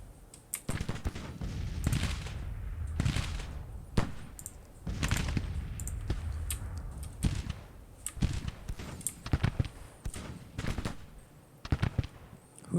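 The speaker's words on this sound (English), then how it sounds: "How are they managing to shoot us now?" Scattered gunshots and musket volleys in a Battle of Manassas war game, sharp cracks in irregular bursts, some close and loud, others fainter, with no speech.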